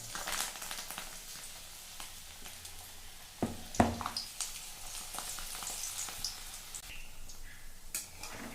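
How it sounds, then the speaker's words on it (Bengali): Battered fritters dropped one by one into hot oil, a soft frying crackle with a louder splash-like burst partway through, quiet overall and without talk. "এখন আমি একটা একটা করে বড়া ছেড়ে দেবো।"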